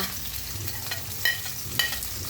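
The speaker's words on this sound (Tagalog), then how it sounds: "Haluin ang sibuyas hanggang sa maluto." Onion sautéed with garlic and ginger in a pan, a moderate steady sizzle with a few sharp utensil clinks against the pan, no voices.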